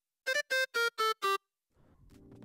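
Five short staccato notes from a bright, reedy synth lead that resembles an accordion, evenly spaced and loud, followed by a quieter sustained tonal wash.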